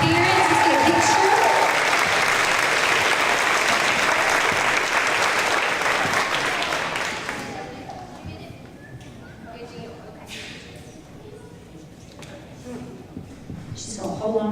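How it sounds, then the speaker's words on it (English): Loud audience applause for third-grade students honored at a school awards event, dense clapping for about seven seconds that dies away into quieter room noise, scattered claps and voices. "One more time, let's give them a round of applause."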